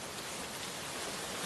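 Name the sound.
rain during a stormy night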